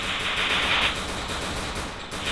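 A short-range gun fires in the Free Fire mobile game as a dense, continuous rattle of rapid shots at close range, staying loud and unbroken for the whole stretch, with no voices.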